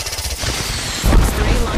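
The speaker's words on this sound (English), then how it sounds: "I am taking fire, friend." Rapid automatic gunfire rattles in Apex Legends, a dense, loud stream of shots that grows heavier and closer partway through, with a voice faintly underneath.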